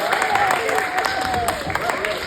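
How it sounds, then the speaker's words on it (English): Applause from a small group after a balance test, light clapping running under a voice that speaks continuously over it. "And a round of applause here."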